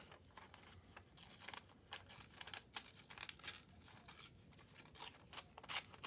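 Small piece of paper being torn and crinkled by hand, quiet close-up ripping and rustling in quick irregular bursts, with no voices.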